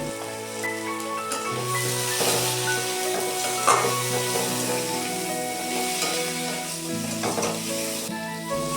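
Spices and chopped tomato fry in hot oil for a silver carp curry, giving a loud, continuous close sizzle with scraping stirs and occasional clinks, and no voices.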